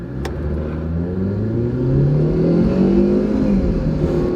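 A small, light car engine revving up while driving, the pitch rising and climbing through a gear change, loud and close with steady road noise and no talking.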